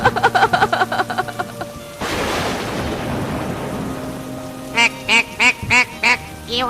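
A duck quacks in quick bursts beside a river during a storm, with a rushing roar of wind and rain between the quacks and a second run of loud calls at the end.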